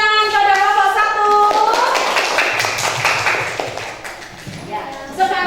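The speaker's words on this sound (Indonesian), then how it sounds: "Beri tepuk tangan pada kelompok 1." A class of children applauds group 1, scattered clapping rising under a teacher's speaking voice, with a lilting tone running through the start and returning near the end.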